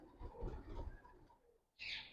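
A male black-beaked fancy pigeon gives a soft, low coo, quiet and close, followed by a brief higher rustle.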